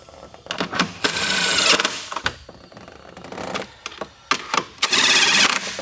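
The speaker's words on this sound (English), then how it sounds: "So I'm gonna use my impact driver, but I have it clutched out really low." An impact driver on a low clutch setting works on a throttle position sensor on a Ford F-series truck, giving several short, loud, close bursts of whirring and rattling separated by pauses.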